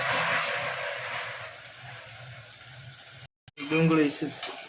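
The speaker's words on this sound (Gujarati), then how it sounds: "તુર અને લીલી ડુંગળી કાપી હોય આમ તેલમાં પહેલાં શેરવી નાખવાની, સારી રીતે શેરવી નાખવાની" Chopped tur beans and green onion sizzle and fry in hot oil, a steady crackling hiss running throughout, briefly dropping out before a voice speaks over the frying near the end.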